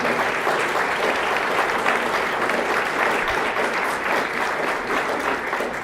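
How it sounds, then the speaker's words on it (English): A banquet audience gives a loud, sustained round of applause, dense clapping from many hands that holds steady for several seconds. "Let's give them a round of applause."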